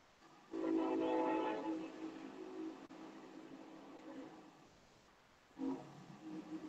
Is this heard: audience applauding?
no